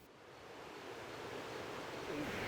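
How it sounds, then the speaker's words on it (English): Rushing creek water on Mount Diablo, swollen after a very wet rainy season, makes a steady broad roar that builds slightly and continues without a break, close and fairly loud, with no voices. "It's flowing water. It's rushing."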